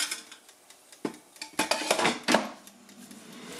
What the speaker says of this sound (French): c'est de secouer le panier